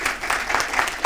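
Brief applause from the audience at a Downey city council meeting, a short burst of scattered clapping at moderate level with no voices over it.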